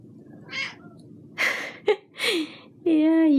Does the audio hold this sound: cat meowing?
yes